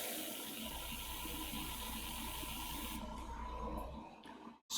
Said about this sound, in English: So again, we'll just kind of backflush this a little bit.